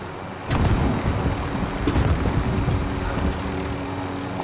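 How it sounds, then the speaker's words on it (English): A helicopter in the video game Call of Duty Warzone, with a steady, loud, dense rotor and engine rumble that carries throughout without a break. "You didn't grab the other chopper?"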